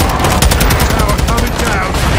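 Heavy gunfire in Call of Duty: Modern Warfare 2 during a Mexican prison break, with rapid sustained bursts of loud, close automatic fire filling the whole span and voices faintly beneath.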